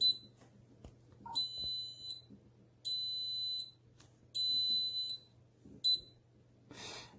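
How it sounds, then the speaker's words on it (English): An Anycubic resin 3D printer wash station, its lid left open, sounds a harsh electronic alarm in repeated high-pitched beep bursts of roughly a second each, separated by short gaps, over a low steady hum. "it's going to give me a very nasty beep tone"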